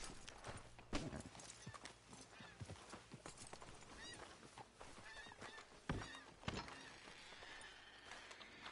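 Horse hooves clip-clop in an uneven rhythm as riders arrive and rein in within the Red Dead Redemption 2 video game world, with sharp hoof strikes, goose-like honks and a horse whinny in the mix.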